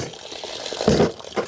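Rainwater flows through a gutter filter, a soft steady trickle that swells into a brief louder gush partway through and then eases back down.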